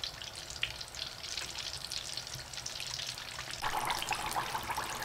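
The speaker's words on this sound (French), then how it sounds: "Je fais la deuxième friture à 180 degrés pendant 5 à 6 minutes." Oil bubbles and sizzles with a fine crackling hiss as crab and meat spring rolls deep-fry at 180 degrees, growing a little louder and busier toward the end.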